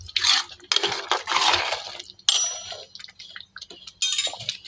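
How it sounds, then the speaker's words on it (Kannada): Water poured into a pot of bisi bele bath rice-and-lentil mix, heard as several bursts of splashing, liquid pours with small drips and clinks, close and fairly loud, alone without talk. "ಸ್ವಲ್ಪ ನೀರು ಹಾಕ್ಕೊತಾ ಇದ್ದೀನಿ."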